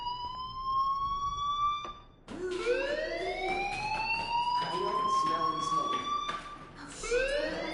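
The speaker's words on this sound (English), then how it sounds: "do you hear that fire alarm?" Fire alarm ringing inside a video game, a loud steady electronic tone that cuts out briefly and then returns with rising, sweeping wails layered over a constant background hum.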